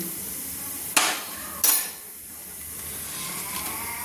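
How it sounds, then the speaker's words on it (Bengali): Black cumin seeds dropped into hot oil for a bottle gourd and prawn curry, two sharp clattering hits followed by a steady hissing sizzle that settles and continues quietly. "তেলটা আমার গরম হয়ে গেছে, তো আমি ফোড়ন দেওয়ার জন্য দিয়ে দিলাম কালো জিরে"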